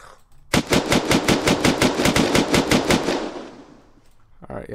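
Unturned video game gun firing a steady automatic burst of about fifteen evenly spaced loud shots over three seconds, then a fading echo and quiet.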